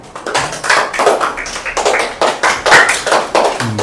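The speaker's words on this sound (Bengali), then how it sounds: "সবাই মাহাতির জন্য একটা হাততালি দাও" A group of children in a classroom claps together for a classmate, a loud, ragged burst of many hands that keeps going in uneven waves.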